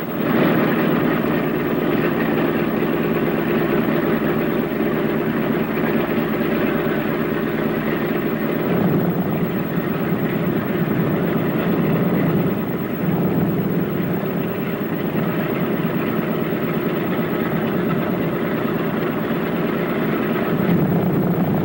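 Four radial piston engines of a B-17 Flying Fortress run at a steady idle with a loud, continuous drone throughout, heard from inside the aircraft with no talking.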